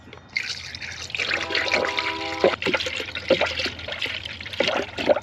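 Coolant trickles and pours into the radiator of a 1995 Mazda Miata M-Edition through a funnel adapter, a continuous liquid gurgle and splash lasting several seconds, close up.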